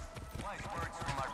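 Horse hooves clip-clop steadily in the PS5 game Far Cry 6, a soft continuous patter heard under loud, excited talking.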